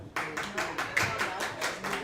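Audience at a Pizza Man event clapping to vote for Natalie: steady rhythmic applause from a small crowd, close and moderately loud, with voices talking underneath.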